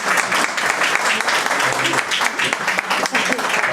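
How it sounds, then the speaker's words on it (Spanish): An audience applauding at a theatrical book presentation in Bullas, a dense, loud round of clapping that is steady throughout, with voices mixed in beneath it. "Yo creo que se merece un aplauso"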